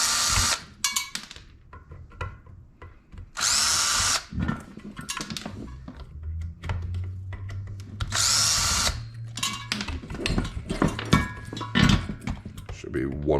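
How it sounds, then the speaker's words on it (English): A power drill removes screws from a ceiling fan being scrapped for copper, giving several short, loud whirring bursts with clinks of metal parts between them. Someone talks at times. "So now I'm just going to go ahead and start removing screws wherever I see them."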